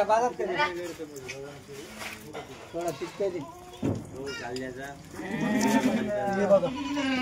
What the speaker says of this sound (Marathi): हे बघा दुधाच्या शेळ्या.